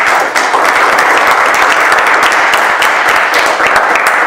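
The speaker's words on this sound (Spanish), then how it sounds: "Le damos un aplauso a" Audience applause closing an academic history seminar, a dense, steady wash of clapping that stays loud and even throughout with no voices over it.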